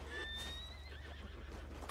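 Horse neighing in the Red Dead Redemption 2 video game: one close, loud whinny with a rising then falling pitch, followed by soft ambient noise and no talking.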